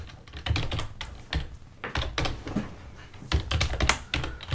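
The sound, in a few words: typing on a computer keyboard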